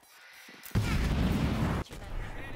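An explosion goes off in the video game Predator: Hunting Grounds, starting abruptly as a loud, harsh blast that lasts about a second, then cuts to quieter trailing noise.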